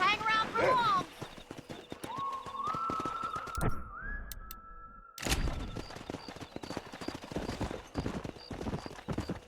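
Horses trotting in the Red Dead Redemption western video game, with steady hoof clip-clops and a whinny, heard under game dialogue, music and a brief burst of gunfire.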